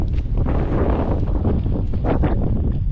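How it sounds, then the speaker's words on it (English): Strong wind buffets the microphone on open Scottish moorland along the Cateran Trail, a loud continuous rumbling roar with gusty swells throughout. "It's still a bit windy"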